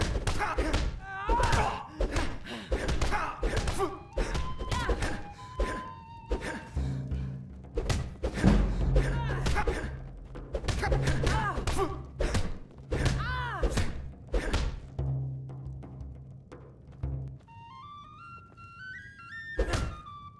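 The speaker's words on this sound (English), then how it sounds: "Now that's what I call a punch" Dull punch impacts land repeatedly in the video game Skyrim, a series of sharp thuds spread through the clip over background game sounds, with a brief whistling tone near the end.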